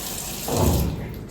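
Water running from a tap, a brief gushing burst that swells up and then eases off, close and moderately loud over a faint background hiss.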